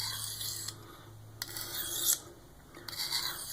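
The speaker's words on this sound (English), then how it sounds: "We're just going to give it a few passes here on this, kind of remove any weakened pieces of metal." ZDP-189 steel knife blade drawn across a Fallkniven DC4 sharpening stone in three separate rasping passes, each a short gritty scrape heard close up with quiet pauses between and no talk.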